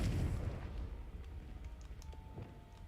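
A Confringo fire spell explodes in Hogwarts Legacy, a single deep boom at the start that rumbles and fades into quieter scattered crackles.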